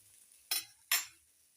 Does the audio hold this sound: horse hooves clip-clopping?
no